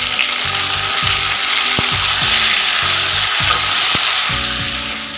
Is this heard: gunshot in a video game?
no